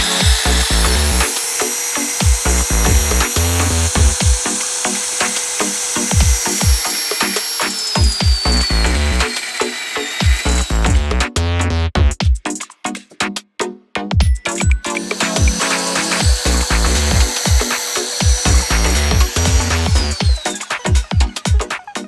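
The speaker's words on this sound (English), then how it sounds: "So I'm going to grind this now." A power grinder bites into a BMW E36 GT wing end plate in long, loud, harsh bursts with a short pause in the middle, close up and with no talking.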